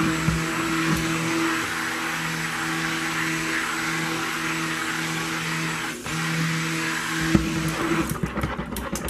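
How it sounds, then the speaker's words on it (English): A blender runs steadily, whirring a batch of cold process soap batter for a homemade soap, a loud continuous motor drone with a brief dip midway and rattling, sputtering noise near the end; no voices. "So let's get this blended up."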